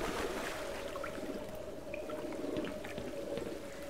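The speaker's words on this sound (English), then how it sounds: "There's ichthyosaurs in that water." Underwater ambience in the Black Mesa video game around an ichthyosaur: a steady watery wash with a low sustained tonal drone and faint gurgles, quiet and continuous.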